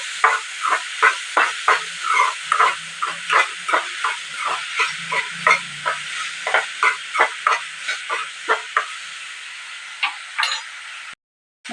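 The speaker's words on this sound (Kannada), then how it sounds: "ಈರುಳ್ಳಿ ಚೆನ್ನಾಗಿ ಫ್ರೈ ಆಗಲಿ ಅಂತ. ಜೊತೆಗೆ ಸ್ವಲ್ಪ ಅರಿಶಿನ ಮತ್ತೊಮ್ಮೆ ಚೆನ್ನಾಗಿ ಮಿಕ್ಸ್ ಮಾಡ್ಕೊಳ್ತೀನಿ." Onions with turmeric frying in a pan while being stirred: a steady hiss of sizzling under a rapid run of regular scraping strokes, about two per second, close and clear, ending in a brief silence.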